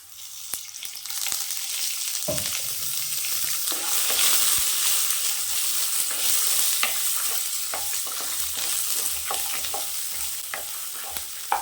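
Onion and coconut sauté in oil for an egg curry, a loud, continuous sizzle with frequent scraping and tapping stirs of the ladle against the pan, close and without any talking.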